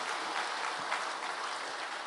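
A church congregation claps during a Sunday morning service, a brief, even patter of applause from many hands, moderately loud and without voices.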